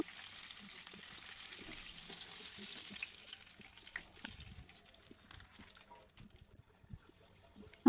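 Snacks sizzle and hiss steadily in a pan of hot oil, a soft continuous frying crackle with scattered pops and clinks that thins out toward the end.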